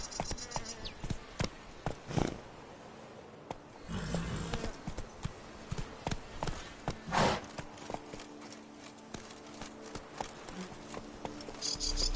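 Roach, a horse in the Witcher 3 Blood and Wine game, runs with rhythmic clip-clop hoofbeats amid buzzing insects and occasional louder thumps, the hooves fairly close and steady throughout.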